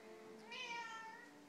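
A cat gives a single drawn-out meow close by indoors, rising and then trailing off, with no talk over it.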